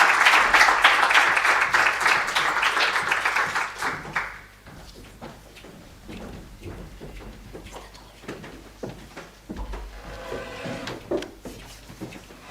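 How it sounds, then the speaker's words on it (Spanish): An audience breaks into loud applause at a public event, then the clapping thins into scattered individual claps and light thumps as it winds down. "Así que les damos un fuerte aplauso, por favor."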